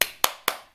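Three sharp hand claps, evenly spaced about a quarter second apart, close and crisp with quick decay and no other sound between them.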